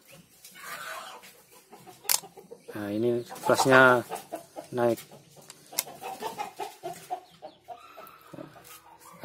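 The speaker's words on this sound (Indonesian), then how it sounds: "Ada ayam ya." A chicken clucks in repeated short, nasal bursts, fairly close, mixed with other bird calls while someone talks over it.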